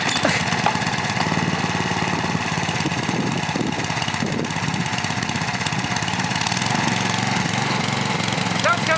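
Cheap $30 pressure washer's small engine roars at full throttle, a loud steady buzzing drone, with people talking over it.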